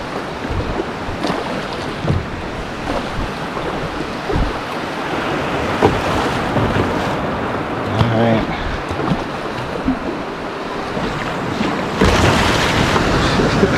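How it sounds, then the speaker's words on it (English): Sea waves wash and splash against a small boat on the California coast, a steady loud rush of water with wind buffeting the microphone and a bigger surge near the end, voices faintly underneath. "Took some water on board there."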